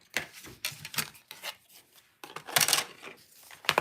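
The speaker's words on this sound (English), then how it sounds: "I'm just going to trim this little piece off." Paper card stock being trimmed by hand for a Valentine's Day card, a series of short close rasping cuts and rubs in quick bursts, with no talking.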